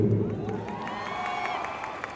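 An audience at a movie launch for the film Sarkeet cheers and whoops with scattered clapping, forming a brief, moderately loud crowd roar.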